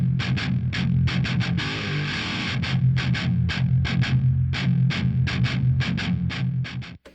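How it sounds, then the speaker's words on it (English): An electric guitar runs through an amp sim plugin with no added distortion, playing a steady rhythmic pattern of short, evenly spaced chugged strums over a sustained low tone, moderately loud throughout. "Okay, so that is the sound of the amp tone."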